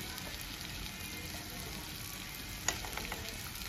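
Food frying in a pan with turmeric gives off a faint, steady sizzle and hiss, with one soft clink of stirring partway through.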